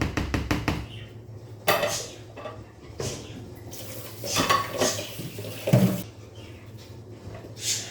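Scraping and clinking of a utensil against a blender jar while emptying plantain porridge mixture, in irregular bursts with a few louder knocks, close by and with no talking.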